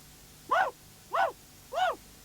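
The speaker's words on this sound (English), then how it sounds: "All this barking makes Auntie come out and tell Teetime to sh" A dog barks three times at an even pace, each bark short and moderately loud against a quiet background.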